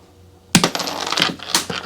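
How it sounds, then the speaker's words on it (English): A J. Kogu machine screw cutter snaps through a screw between its threads with one sharp crunching crack, followed by a few lighter clicks and rattles up close. "I'll cut it, try to line it up right there in between some threads."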